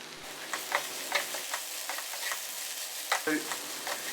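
Spiced vegetable stuffing with cumin and turmeric powders is stirred in a pan, a spoon scraping and clinking in irregular strokes over a faint steady sizzle, close and alone.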